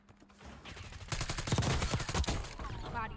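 A fast burst of automatic fire erupts in a Black Ops 6 Warzone match, building from quiet into loud, rapid, closely spaced shots that last a couple of seconds.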